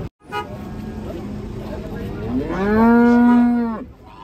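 A unique-coloured cow bellows as it is unloaded from a truck after breaking loose from its rope, one long rising moo near the end over a steady background of voices and commotion.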